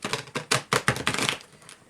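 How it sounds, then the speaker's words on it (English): A deck of cards riffles in a quick burst of rapid flicking clicks, close up, that tapers off after about a second. "that was not the prettiest shuffle."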